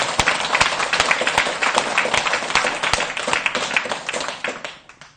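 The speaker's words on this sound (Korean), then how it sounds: "그런 의미에서 크게 박수를 한번 쳐주세요." Audience at a Buddhist dharma talk claps together in a dense, lively burst with a few sharper standalone claps, holding steady before tapering off at the end.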